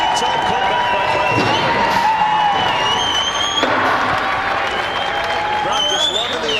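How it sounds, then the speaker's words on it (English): Arena crowd at a 1999 BattleBots robot fighting championship in Las Vegas cheers and applauds in a steady, dense roar, with whoops and an announcer's voice talking over it. "Crowd just loving the action."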